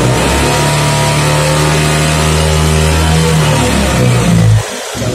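A car engine revs as the throttle is pressed, rising to a loud, steady drone that holds for several seconds before dropping off abruptly near the end.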